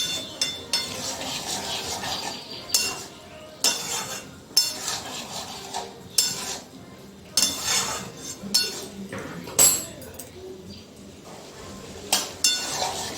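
Masala with yogurt is sautéed and stirred in a pan, giving close, irregular strokes of metal scraping and clinking that repeat every second or two over a quiet background.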